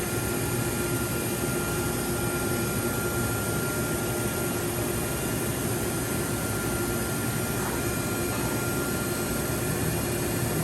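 A Johnford DMC-1200HN gantry machining center with an HSK 63 spindle taper runs as a steady, even whir that stays constant and fills the whole stretch without pauses.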